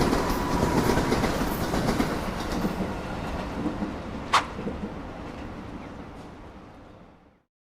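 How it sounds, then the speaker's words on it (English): A freight train rolls along the rails with a steady broadband rumble and rattle, one sharp metallic clank midway, before the noise fades out near the end. "train is moving"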